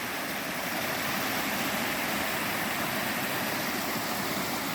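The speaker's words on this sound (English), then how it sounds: "The stream actually passes under the path here." A small fell stream swollen after rain, flowing and splashing steadily nearby on a Lake District walk near Elterwater in Great Langdale, a continuous broadband wash with no voices.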